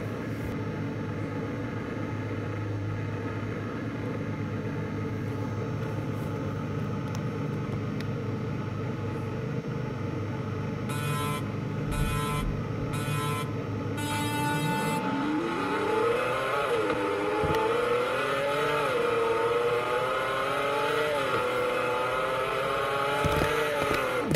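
Roblox drag race cars in Car Dealership Tycoon, including the Apollo Project EVO, a steady synthetic engine drone that climbs in rising, stepped revs through gear changes in the second half, with brief clicks partway through.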